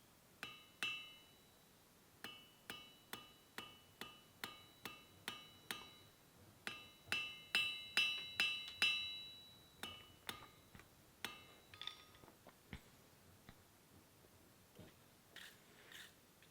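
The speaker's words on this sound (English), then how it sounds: "I'm now going to go to a nice sharp shoulder on the anvil, give the material a good clean, and do a second set down." Iron being hammered on an anvil while forging a Roman fibula, a long run of sharp metallic blows close by, some in quick steady bursts with pauses between, ringing brightly with no talk.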